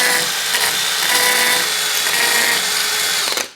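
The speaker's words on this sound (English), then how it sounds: "what I'm going to do is just drill it a little bit." A power drill whines continuously as it bores into a plasterboard wall, loud and close, with a scraping grind that cuts off abruptly at the end.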